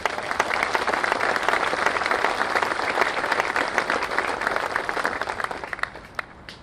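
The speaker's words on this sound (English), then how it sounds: "Please clap for them." Steady, full audience applause at a Marine Corps Sergeant Major relief and appointment ceremony, many hands clapping at moderate distance, fading slightly toward the end.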